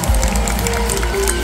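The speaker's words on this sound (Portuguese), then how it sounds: "Eu queria uma salva de palmas em especial para ele." A dense roar of crowd noise and applause at a live concert in Manaus in 2023, filling the whole moment loud and steady.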